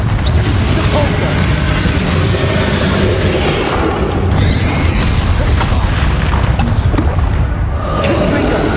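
A Depulsor spell is cast in the Hogwarts Legacy video game, setting off a loud, continuous wash of booming, rumbling magical blasts with crackling bursts layered through it.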